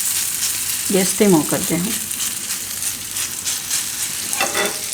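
Batter for a dudhi bateta (bottle gourd and potato) uttapam sizzles steadily on a hot pan, a broadband hiss running throughout while someone briefly speaks over it near the start and end.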